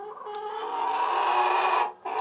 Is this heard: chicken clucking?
yes